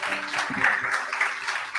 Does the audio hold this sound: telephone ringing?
no